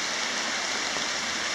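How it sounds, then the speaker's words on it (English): Floodwater rushes hard down Smith's Creek, making a steady, dense, hissing roar that neither rises nor falls. It sounds close and fairly loud, and no one speaks over it. "that's a shitload of water pushing through here"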